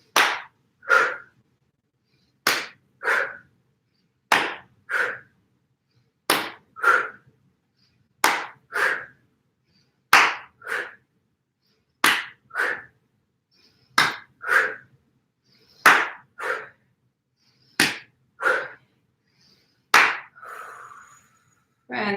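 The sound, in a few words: hands clapping above the head during full body swings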